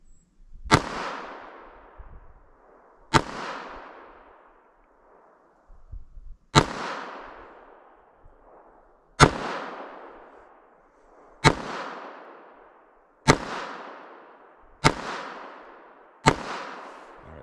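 Eight sharp, loud pistol shots from an S&W Shield EZ 2.0 .380 ACP, fired one at a time at uneven intervals of roughly two to three seconds on a range, each crack followed by a ringing decay.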